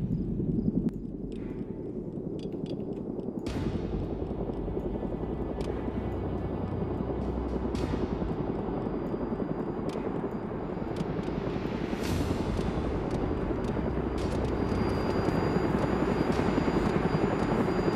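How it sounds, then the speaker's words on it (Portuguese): Helicopter in the video game DayZ, a continuous thudding rotor chop with engine drone, loud and steady throughout, with occasional sharp clicks on top. "Olha um helicóptero, ó."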